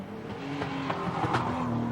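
Sports sedan race cars power through a corner at a circuit, engines droning steadily with shifting tones and brief tire squeal, sustained and fairly loud throughout with no talk.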